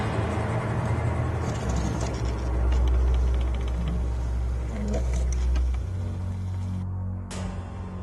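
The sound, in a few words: small motor turning a tray wheel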